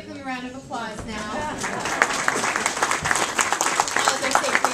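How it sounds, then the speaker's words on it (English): An audience at a raptor center presentation claps, a moderately dense patter of many hands that builds after a voice briefly speaks at the start, then continues steadily to the end. "we can give them a round of applause now"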